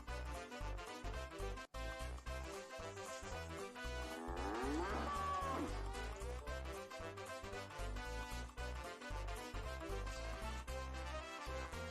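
A cartoon cow moos in Earthworm Jim HD on Xbox One, a long drawn-out bellow over a steady, loud backdrop of game music.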